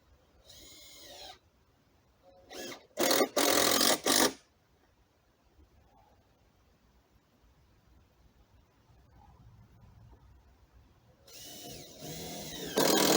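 A power driver whirs as it drives screws into pallet wood while a compost bay is built outdoors. Several bursts come close and loud, with a brief run, then a longer double burst, and later another run, separated by quiet pauses.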